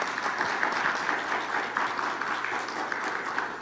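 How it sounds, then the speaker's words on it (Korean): An audience at a theology forum applauds to welcome a panel, a dense, steady patter of many hands clapping throughout at moderate volume, with no voices over it. "우리 박수로 우리 패널들 환영해 주시면 감사하겠습니다"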